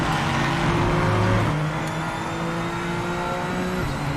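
A BMW M4 in a racing video game holds a steady, loud engine drone with strong low harmonics. The pitch shifts slightly as it runs, and the note carries on without a break.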